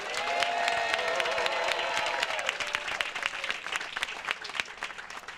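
A crowd at a public legacy-weekend gathering gives a round of applause for a state senator: steady, full clapping from many hands, loud and close, tapering into scattered claps near the end.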